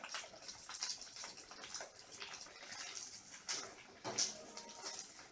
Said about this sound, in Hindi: इस तरीके से हम इसमें एक एक करके ब्रेड रोल डालेंगे और इसको गोल्डन होने तक तलेंगे।